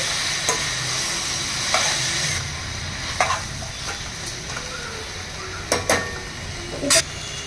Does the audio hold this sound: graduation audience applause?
no